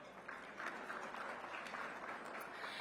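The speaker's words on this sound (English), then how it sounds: "So another round of applause." Faint, distant applause at a Washington luncheon for a newly formed chorale, a soft steady patter of many hands that runs for a few seconds and stays low in level.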